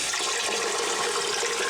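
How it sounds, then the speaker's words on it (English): Water runs steadily into a cooking pot that already holds beef stock, making a loud, continuous rushing pour from close by, without talk. "So beef stock, and then I'm going to fill the rest of the way up with water."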